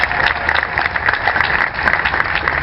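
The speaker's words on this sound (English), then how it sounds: "Can we have another round of applause for them?" A large, dense crowd applauds the Marching Illini at the Illinois state bicentennial celebration in Springfield, a loud, steady wash of many hands clapping with no talking over it.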